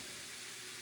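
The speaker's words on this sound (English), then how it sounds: "Can you hear these sweet taters frying?" Sweet potatoes frying in shortening and butter give a steady, close broadband sizzle that holds evenly, with no talk over it.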